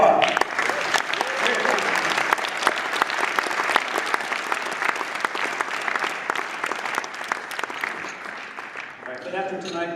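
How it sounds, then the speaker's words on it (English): An audience at an evening program gives a long, steady round of applause, dense many-handed clapping that runs throughout before fading as a voice begins at the very end. "you deserve a big round of applause."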